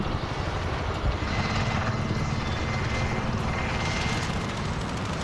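A helicopter in Call of Duty: Modern Warfare flies with a steady, loud rotor thrum and engine whine that holds constant throughout.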